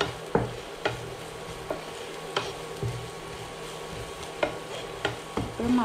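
Chili powder goes into a prawn masala frying in a pan, a soft low sizzle under a rhythmic series of spoon taps and scrapes against the pan, fairly quiet and close.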